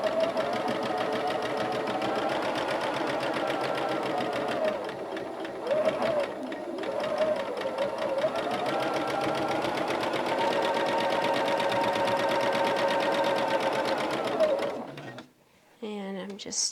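A sewing machine stitches rows of an animal-crackers quilt together, a steady close whirring hum that runs for about fifteen seconds before cutting off near the end, followed by brief handling noise.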